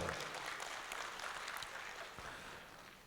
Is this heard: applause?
yes